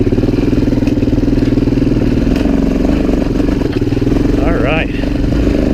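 A Suzuki DRZ400e dirt bike motors along in second gear just off idle on a wooded trail, its steady thumping engine loud and close throughout, with someone briefly speaking over it.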